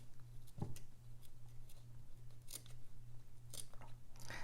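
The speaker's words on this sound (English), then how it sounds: "I'm going to grab my snips or a very sharp pair of scissors" Sharp snips or scissors clip into a fabric seam allowance at a corner seam, giving a few quiet, close, crisp snips spaced irregularly over a low steady hum.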